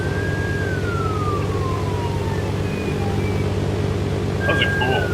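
A police car siren in the video game ARMA 2 DayZ wails and glides downward over a steady low engine drone, then a brief higher siren tone returns near the end.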